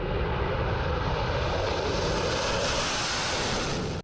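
Turkish military jets taking off for an air operation produce a loud, continuous roar of jet engines that holds steady before cutting off abruptly at the end.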